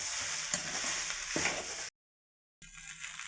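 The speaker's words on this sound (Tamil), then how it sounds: "ஊற்றி எல்லாத்தையும் ஒன்றா கிளறுங்க." Sauces are stirred into chicken fried rice in a hot pan, giving a gentle close sizzle with light scraping. The sound cuts to brief silence, then the sizzle returns.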